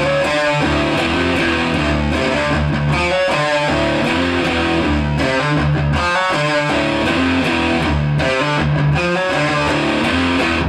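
The main riff of a song is played on a heavily distorted electric guitar. It comes loud and dense, with chugging, rhythmic chords and no voices.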